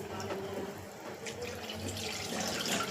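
Water poured into a pot of tomato rasam during home cooking, a steady splashing pour with a faint trickle that continues throughout, close and moderately loud.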